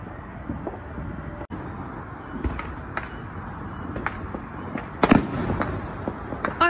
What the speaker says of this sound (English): Let's see the fireworks for midnight. I'm hearing it inside.